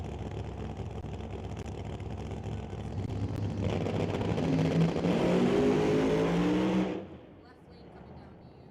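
Drag racing car at Doorwarz 12 revving hard at the starting line, a loud sustained engine roar building from a steady rumble to a peak before cutting off sharply, then quieter background noise; voices talk throughout.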